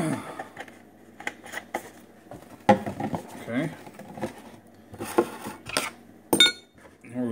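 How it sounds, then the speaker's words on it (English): Lid pushed back onto a plastic container holding homemade scent-killer spray, a series of close clicks, taps and rattles spread out over several seconds, with a voice speaking in between. "Put our lid back on"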